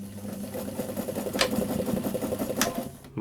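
Sewing machine stitching a tree strap, running steadily at close range with a fast, even mechanical chatter and a couple of brief sharper clicks, no voices.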